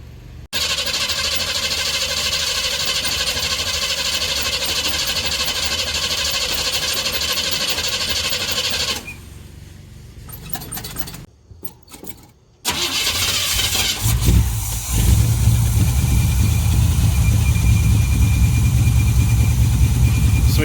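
A carbureted engine running from a newly installed fuel cell idles loudly and steadily, shuts off, and then, after a pause with a brief stumble, restarts and revs harder, close and loud with no talk.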